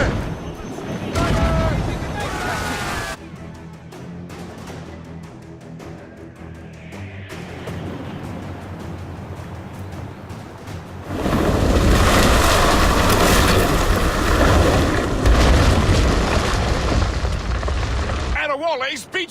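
Naval cannon fire and explosions aboard sailing warships in Assassin's Creed Rogue, with deep booming blasts and rumbling roar building into a long loud barrage near the end, shouted commands heard through the din.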